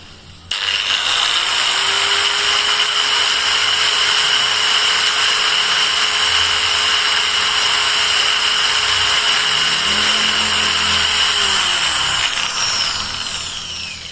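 A Total variable-speed angle grinder, model TG109125565, runs steadily at speed setting 4, around 6800 RPM, with a loud continuous high-pitched whine held for the full duration and no talking.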